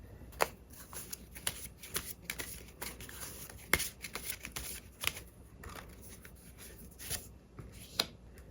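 Tarot cards are shuffled close by in quick riffling bursts, with sharp papery snaps and flutters at irregular intervals and a soft rustle between them.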